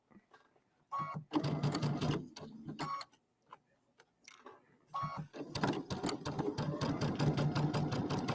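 A sewing machine stitches in bursts of rapid mechanical clatter, with short pauses between runs; close and clear, no voices.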